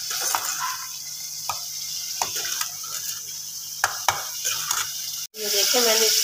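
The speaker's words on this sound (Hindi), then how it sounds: "और इसको मैंने इतनी देर तक भूनना है कि ऑयल ऊपर आ जाएगा" Masala for an aloo matar curry fries in oil while a spoon stirs and scrapes the pan in irregular strokes. After a brief pause near the end, a louder, steady sizzle bursts up.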